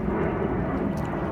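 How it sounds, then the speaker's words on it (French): An SAS airliner passes overhead near the coast at Tromsø, a loud, steady, broad jet roar that fills the whole moment without any talking. "Alors là, c'est un avion"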